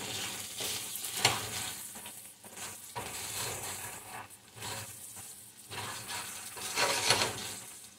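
Egg pie mixture sizzling in olive oil in a pan, stirred slowly, with steady frying crackle and occasional scrapes and clinks of the utensil swelling louder at intervals, close and continuous with no talking.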